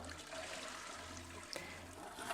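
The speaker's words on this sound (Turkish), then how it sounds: "Sifonu çekiyor." A toilet flushing, a steady rush and trickle of water running close by and alone, with a low hum underneath and a couple of faint clicks.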